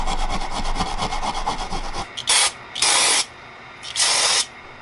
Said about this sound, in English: Just gonna hit this with some rust converter to keep it from getting any worse.